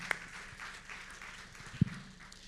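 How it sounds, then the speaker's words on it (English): Faint, steady applause from a conference audience, cheering startups at the Philanthropy Asia Summit 2026 innovation spotlight, with a soft broadband patter and a couple of sharper claps standing out. "Can we get a round of applause for all the startups?"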